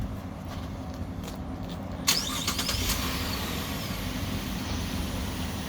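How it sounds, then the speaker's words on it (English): A car at an auto show is started a couple of seconds into a steady background drone, with a sharp cranking burst as the engine catches and then settles into a close, even idle. "I'm going to start the vehicle."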